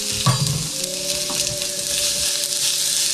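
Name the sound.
onions sizzling in hot oil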